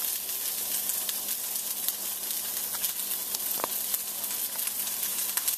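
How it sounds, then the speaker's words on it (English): A flour-dusted trout fillet sears in a hot pan with a steady, dense hiss of sizzling oil, close and even, with faint clicks and pops scattered throughout. "get a nice brown, a nice sear"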